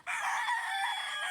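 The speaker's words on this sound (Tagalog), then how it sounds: "Ikakahon na nila ang mga manok." Chickens on a farm crow and cluck loudly and continuously while being boxed up, a dense, steady chorus of fowl close by with no pauses.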